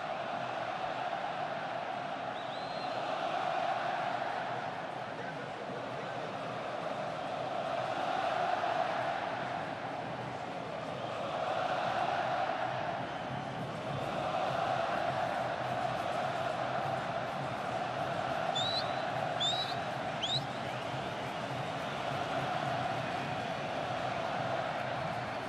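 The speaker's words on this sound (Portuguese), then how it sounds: "Ouça a torcida do Grêmio." Grêmio supporters fill a stadium during a Grenal derby against Internacional with a steady, broad crowd roar of chanting that swells and ebbs over time, with a few brief whistles near the end.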